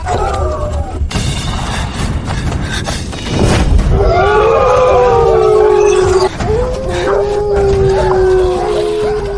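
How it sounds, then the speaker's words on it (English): A wolf pack howls in a drama set during a famine, long rising and sliding cries layered over one another and swelling from about four seconds on, close and loud over thumps and rough background noise. "Wolves, run."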